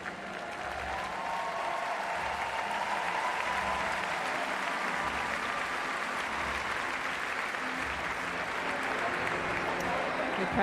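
A packed crowd at a London 2012 Paralympic track cycling velodrome applauds steadily and generously, a broad continuous wash of clapping and cheering, with a commentator's voice over it.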